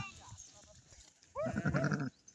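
Sheep bleating on a farm, two or three loud, wavering calls close by after a quieter stretch of faint animal sounds and background noise.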